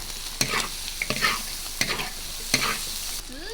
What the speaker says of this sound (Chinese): 把所有的这个虾子、土豆、鱿鱼放进去翻炒